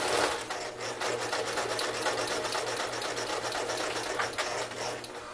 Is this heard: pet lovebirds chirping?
no